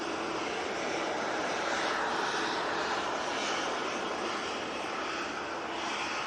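A steady, loud jet roar fills the air as an EasyJet airliner departs for Amsterdam, a continuous rushing engine noise with slight swells and no voices.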